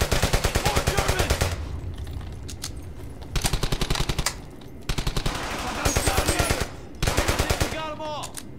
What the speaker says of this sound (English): Grease gun was a really good submachine gun.